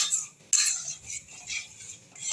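Semolina dough being stirred in a wok with salt, sugar and ghee for a homemade sweet, giving repeated scraping and clinking of a metal spoon against the pan, fairly close, with no talking.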